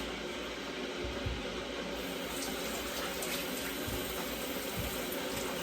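Boiling water pours steadily over tomatoes in a kitchen, a continuous close splashing rush that fills the whole stretch with no talk.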